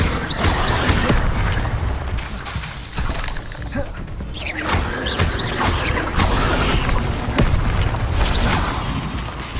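Fire spells are cast repeatedly in Hogwarts Legacy, dense crackling bursts, booms and shattering crashes filling the scene continuously at close range.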